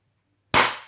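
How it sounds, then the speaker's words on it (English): A wrapped ceramic bowl whacked hard to break it for kintsugi: silence, then a single loud sharp crack that decays quickly. "So we're going to wrap this bowl up and I'm going to whack it on here"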